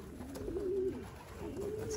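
Racing pigeon cooing on its return from a 400-mile old bird race, a soft, close, repeated throaty coo rising and falling over low background rumble.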